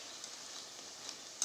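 Pakoras frying in hot oil with occasional stirring give a steady, faint broadband sizzle with a few soft clicks, and a slightly louder scrape comes right at the end.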